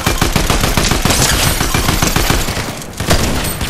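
Rapid bursts of gunfire in Fortnite Zero Build, a fast, loud, crackling volley of shots that keeps going with a brief pause near the end.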